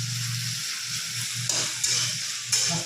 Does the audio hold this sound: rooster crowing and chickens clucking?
no